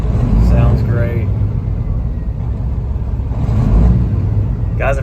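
The diesel engine of a 2015 Peterbilt 389 factory-built glider truck rumbles steadily at idle nearby, with someone talking over the deep running drone.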